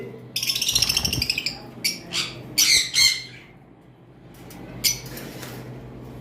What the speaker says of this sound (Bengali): এখন আমরা যেটা দেখাবো এটাকে লুটিনো ফিশার অপালাইন বলা হয়